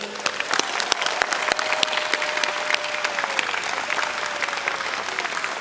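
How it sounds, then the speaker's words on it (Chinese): Sustained audience applause at a presidential inauguration speech, a dense, even wash of clapping from a large crowd that holds steady throughout. "也请大家一起给他们一个最热烈的掌声"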